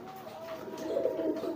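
Domestic pigeon kept in a coop, cooing while driving its mate ahead of nesting; a soft, low, continuous coo swells near the middle of the short span, close and fairly quiet.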